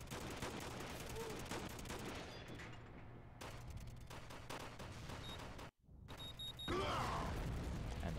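Gunfire in a multiplayer shooter video game from a red-dot-sighted gun without a suppressor, dense loud bursts of rapid shots with a brief silent gap, under occasional talking.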